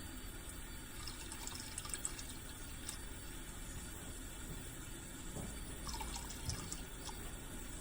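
Water runs steadily from a tap into a sink, a continuous faint rushing stream with small splashes and drips scattered through it, and no one speaks.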